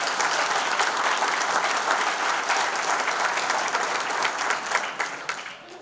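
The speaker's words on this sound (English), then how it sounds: "Please give them a big round of applause." An audience at a 2022 St Joseph Hall of Fame ceremony claps in steady, dense applause that holds for several seconds and then tapers off at the end.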